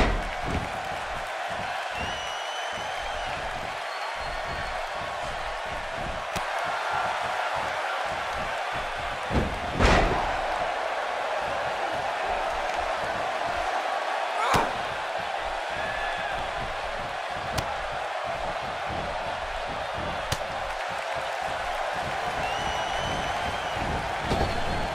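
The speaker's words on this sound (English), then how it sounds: "I don't think I've heard a Toronto crowd this loud since we were in the Dome for WrestleMania 18." Arena crowd in the WWE 2K18 wrestling video game roars in a steady, dense wall of cheering for the whole stretch, punctuated by occasional sharp slams from the ring.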